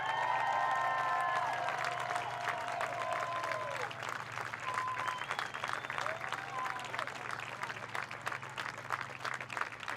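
A crowd applauds and cheers at a baseball pre-game ceremony, a steady patter of clapping with scattered whoops and whistles. The clapping stays fairly even at moderate loudness throughout.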